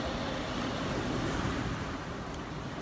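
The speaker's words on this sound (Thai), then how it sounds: "โอ้โหดูเสียงลมนะ" Strong typhoon wind blowing through Tokyo, a loud, steady, unbroken roar of rushing air that fills the whole stretch with no voices.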